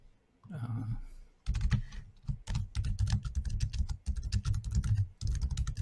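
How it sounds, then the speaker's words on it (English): Close, brisk typing on a computer keyboard in quick bursts of key clicks, starting after a brief rustle and a short pause. "I'm going to type this down"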